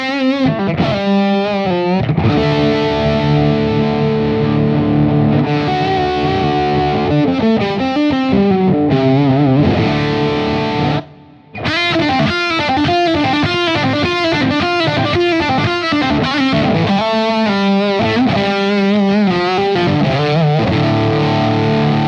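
Electric guitar pushed through an amplifier turned all the way up to full volume plays loud, heavily distorted riffs and sustained chords, with a brief near-silent gap midway before a dense rhythmic chugging section resumes.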